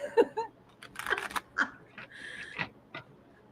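A dog gives a few short, faint barks in a quiet indoor room during a live tarot reading, spaced irregularly, with soft voices nearby.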